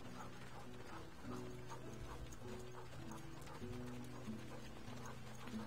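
Sled dogs in the survival game Eternal Winter, a steady low-level mix of soft yelps, panting and paw-like padding with a rhythmic, tonal hum from the team running over snow, continuous throughout.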